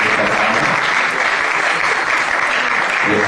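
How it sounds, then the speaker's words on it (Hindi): An audience at a Haryana Kala Parishad theatre event in Kurukshetra applauds a play director being honoured, dense continuous clapping from a large crowd, loud and close, with no talking over it. "आप भी तालियों के साथ साथ दीजिएगा"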